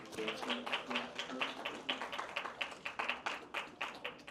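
Audience applause at a children's policy proposal contest as a presenter is welcomed to the stage, a steady run of clapping pulses over about four seconds, moderately close and loud, with no talk.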